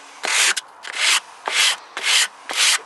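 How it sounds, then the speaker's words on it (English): Sandpaper of 120 grit wrapped on a wooden block sands filler along an MDF board edge outdoors, making five loud, even rasping strokes with short pauses between them. "use some 120 grade sandpaper with a wooden block just to lightly smooth down the filler on the edge of the MDF"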